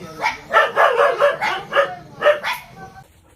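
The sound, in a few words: dog barking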